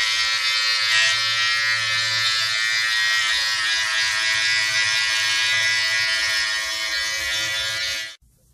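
A Philips Norelco Multigroom 3000 trimmer with a 16 mm guard cuts through a beard, giving a steady, close electric buzz for about eight seconds before cutting off abruptly.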